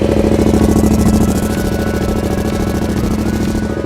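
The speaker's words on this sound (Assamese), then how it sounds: "বাইকখন আমি ষ্টাৰ্ট কৰিম ষ্টাৰ্টৰ মেইনলি চাউণ্ডটো" A motorcycle engine, a Yamaha MT-07 or Royal Enfield Himalayan, runs at a close, loud, steady idle with an even rapid pulsing throb and no voices.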